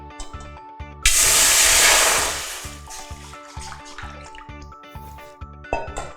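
Water pours into a pot to start a syrup for a Thai taro dessert, a loud splashing gush lasting about a second and a half before tapering off, with soft background music throughout.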